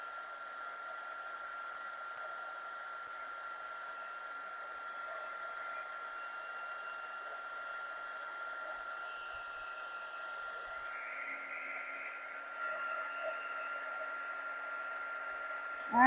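A heat gun runs steadily for heat embossing on a handmade card, giving a constant close whooshing blower roar with a slight shift in tone near the end and no talking.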